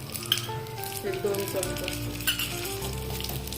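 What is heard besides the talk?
raisins roasting and sizzling in ghee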